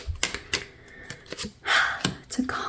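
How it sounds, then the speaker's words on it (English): Tarot cards being shuffled by hand give a rapid run of crisp, irregular papery clicks and snaps, close and fairly loud, with brief flurries and pauses. "As I'm shuffling out your cards, I invite you to take some deep breaths."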